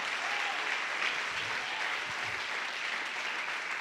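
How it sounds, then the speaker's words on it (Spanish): Congregation applause during a church sermon, a steady, full roar of many hands clapping throughout, uniform in loudness with no speech over it. "Dale un aplauso al Señor"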